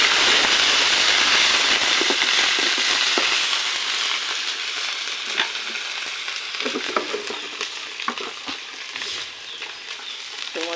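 Onions fry with ginger-garlic paste for a taro curry, a steady close sizzle that eases off as a utensil stirs and scrapes the pan in scattered knocks.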